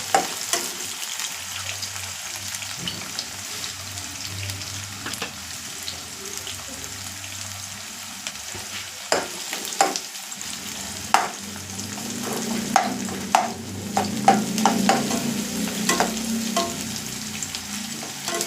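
Food frying in a pan as it is stirred, a low crackling sizzle with intermittent utensil scrapes and knocks that become denser and louder in the second half.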